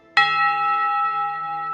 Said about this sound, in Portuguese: ouvindo os 6 toques agudos de seu badalo frágil batendo contra o seu interior